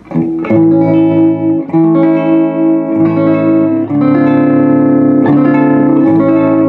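Sustained electric guitar chords ring out through the clean channel of a Mesa Boogie Mark V 35 tube amp, a few strummed changes with a slightly gritty edge and light reverb, no talking.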